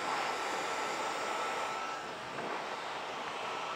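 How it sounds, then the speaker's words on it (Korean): A hair dryer blows a steady, even whoosh of air while a layered bob is styled, a continuous soft hiss at moderate distance without pauses. "드라이기 바람은 고루고루 주는 게 중요해서"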